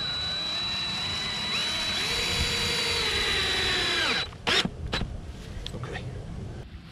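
A power drill drives 4-inch coated deck screws into greenhouse framing. A high, steady whine winds down about four seconds in, followed by a few short bursts and clatters with a voice in the background.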